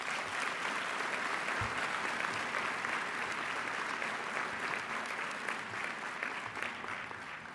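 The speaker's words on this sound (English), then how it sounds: "Can we give them a round of applause?" Steady applause from a graduation audience for the school's founders, a dense even wash of clapping that holds at a constant level throughout with no voices over it.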